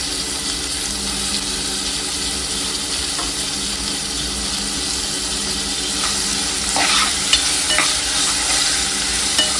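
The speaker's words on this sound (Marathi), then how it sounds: "थोडेसे ह्याला दोन मिनटासाठी फक्त परतायचं जास्त नाही" Onion and tomato with ginger-garlic paste sautéing in a pan, a steady close sizzle with light stirring scrapes throughout, a few louder clinks near the end.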